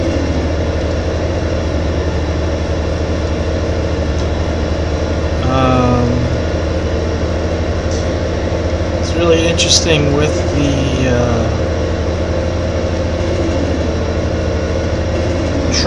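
A train rolls through a Farming Simulator 2015 game world as a steady low mechanical rumble and drone, with someone talking over it.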